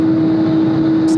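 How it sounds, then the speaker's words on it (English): A 23-year-old Boeing 777 airliner taxiing at Tokyo Haneda airport, heard as a loud, steady engine drone with a sustained tonal whine, unbroken throughout. "Now it's time for a much older 777 to taxi in and take up their space"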